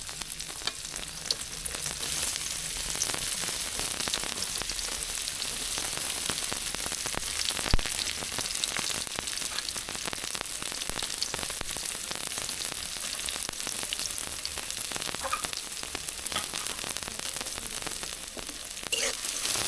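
Chilies, onion and garlic fry in a pan for a Bengali eggplant bhaji, a steady, dense sizzle crackling continuously throughout with small pops, close and even in loudness, no voices.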